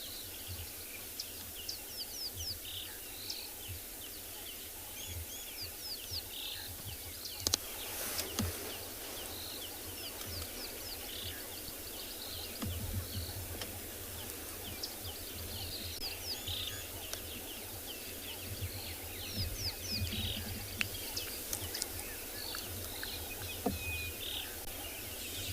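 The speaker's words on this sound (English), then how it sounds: "The bird that you just heard on their side, that's a Swanson's Franklin's giving that call." Swainson's francolin calling on a South African morning safari, harsh repeated calls fairly distant amid a dense chorus of other birds and insects, continuous and faint throughout without talk.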